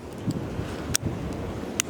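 Steady outdoor wind rushes and buffets the microphone, with low rumbling gusts and a couple of brief sharp clicks.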